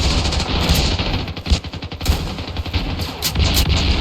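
Gunfire from an M1 carbine in the video game Ravenfield, a dense, loud stream of rapid shots and battle noise crowding together with no clear gaps, no talking over it.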